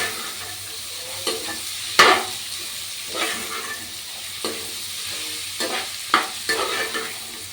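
Pasta sizzles in hot oil in a home pan with a steady soft frying hiss, punctuated by occasional scraping stirs of a utensil at close range.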